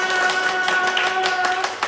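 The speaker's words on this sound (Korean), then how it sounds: "모두 다 잘했다는 박수로 선생님이 박수 쳐줄게요" A teacher claps her hands to praise the children in a Sunday-school style lesson, a brief run of sharp, close claps in a quick uneven rhythm, with a steady faint tone behind them.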